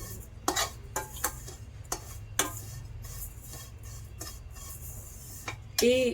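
Vermicelli roasting in a pan for sheer khurma is stirred with a utensil, giving a few light scrapes and taps over a faint, steady background hum, with a louder clatter near the end.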